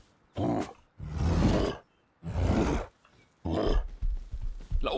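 A bear in the survival video game Rust lets out a series of four loud, growling roars in separated bursts, each thick and throaty, with short gaps of quiet between them.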